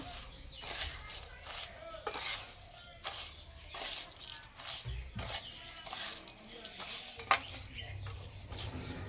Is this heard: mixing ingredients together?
yes